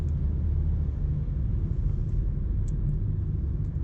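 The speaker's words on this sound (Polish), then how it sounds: "Teraz daję gaz, to ta auto jedzie." BMW E90 2.0d diesel car with 184 hp and an automatic gearbox, a steady low engine rumble under acceleration, continuous and fairly close with no speech.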